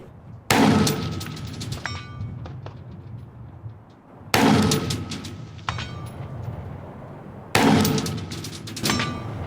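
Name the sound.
rifle gunshots at 500 yards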